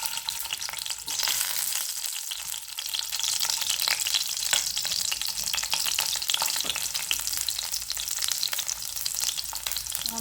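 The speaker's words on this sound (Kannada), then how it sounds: "ಎಣ್ಣೆ ಕಾಯ್ತಿದ್ದಂಗೆ ಮೊದಲು ಈ ಥರ ಬೆಳ್ಳುಳ್ಳಿ ಬೇಳೆ ಬಿಡಿಸಿಟ್ಕೊಂಡಿರ್ತೀವಲ್ಲ ಇದನ್ನು ಹಾಕೋಣ" Garlic cloves frying in hot oil for a mushroom sukka, a steady, dense crackling sizzle that runs continuously and fairly loud throughout, with no voices over it.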